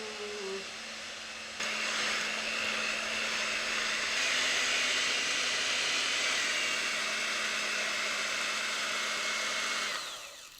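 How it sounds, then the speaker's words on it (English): An electric hand mixer whirs as it blends a chocolate pudding dessert mixture, switching on abruptly into a steady, fairly loud motor whine that holds for about eight seconds and then cuts off. "I'm gonna take my electric hand mixer, and we're gonna blend this all together until it's nice and smooth and has that pudding consistency."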